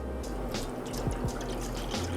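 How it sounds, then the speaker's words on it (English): Around two cups of milk pour into a pot on the stove, a soft, quiet liquid stream with faint splashing heard alone for a couple of seconds. "add in our milk, about 2 cups"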